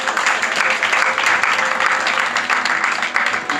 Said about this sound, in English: A warm round of applause to the blindfolder.